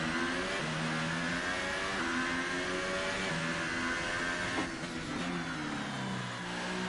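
A race car engine in a racing video game revs steadily and loudly, its harmonic whine rising and dropping through gear changes with no break in the sound.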